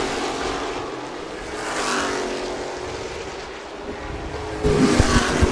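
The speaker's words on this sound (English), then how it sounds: "he made a good gain in turn 3 there, Bill, going across the stripe." Sportsmen-class race cars run a 25-lap feature on an oval track at Mobile, with a continuous roar of engines at a distance that grows louder near the end.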